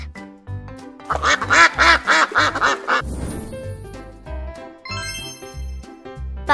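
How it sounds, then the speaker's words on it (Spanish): Duck quacking in a row of quick, loud, nasal calls over a bright jingling musical backing, followed by chimes and tinkling notes. "Duck."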